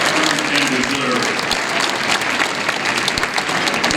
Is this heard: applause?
yes